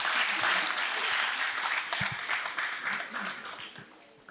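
An audience at a debate breaks into loud applause, dense clapping that stays strong and gradually thins toward the end.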